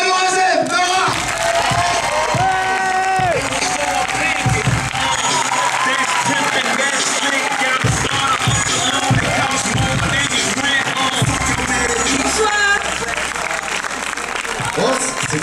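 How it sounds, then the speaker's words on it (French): An audience at a film premiere for Gangsterdam applauds and cheers loudly for Nora, a sustained dense wash of clapping with shouts and voices mixed in throughout. "merci d'applaudir aussi tout de suite très fort Mademoiselle Nora"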